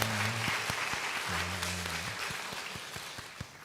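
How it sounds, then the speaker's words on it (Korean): A Korean church congregation giving welcoming applause during Sunday worship, even clapping that fades gradually, with sustained tones and a few sharp knocks scattered through it. "환영하는 박수 하겠습니다."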